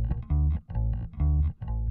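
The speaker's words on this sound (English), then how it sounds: "you'll always kind of hear the fifth to the first type bouncing rhythm" Electric bass guitar plays a bouncing country-style pattern alternating root and fifth, with four evenly spaced low, plucked notes per two seconds, clear and up front with no voices.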